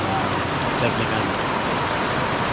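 Steady rain falls on an offroad trail drive, a dense continuous hiss filling the whole stretch at close range, with a person talking faintly underneath.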